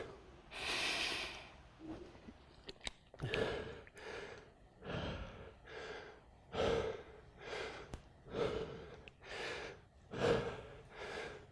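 Heavy, rhythmic panting from someone catching breath after mountain climbers and planks in a high-intensity bodyweight workout, about a dozen loud, close gasping breaths in steady succession with no talking.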